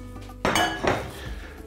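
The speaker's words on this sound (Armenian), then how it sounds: "Գործ ենք դնում սիրելի ամանը։" A metal cooking pot set down on a kitchen counter while making an eggplant and beef dish, giving two clinking knocks in quick succession, close and fairly loud, the second fainter, with a short ringing tail and no talk.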